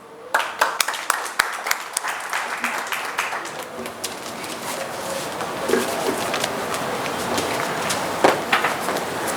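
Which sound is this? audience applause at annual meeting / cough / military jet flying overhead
audience applause at annual meeting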